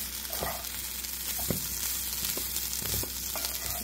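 Cauliflower thoran cooking in a pan, with a soft steady sizzle and a few spoon scrapes while it is stirred, fairly quiet and close with no voices.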